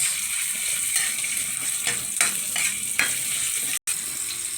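Onions frying in a pan for chicken curry, with garlic already cooking: a loud, steady sizzle close by, broken by a few sharper stirring scrapes.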